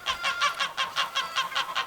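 Fowl give a rapid, evenly spaced run of about nine honking clucks, loud and close, with no talking over them; chickens are the birds being fed kitchen scraps.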